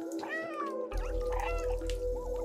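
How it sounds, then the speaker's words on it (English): Cat meows from the video game Stray, several rising and falling cries over a steady low background hum, loud and close with no talking. "Oh, you're unfazed by the cute meows."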